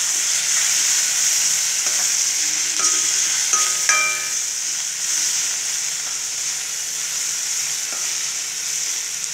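Tomato and onion sautéing in a pan for a groundnut beetroot kootu: a steady, close sizzling hiss runs throughout, broken by a few light utensil taps and clinks, with no talking.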